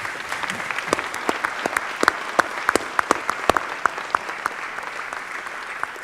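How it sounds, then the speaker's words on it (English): A conference audience at a plenary session of an international road conference applauds the panelists, dense steady clapping from a large crowd at moderate distance, with no talk over it. "I think you should all give the panelists a round of applause"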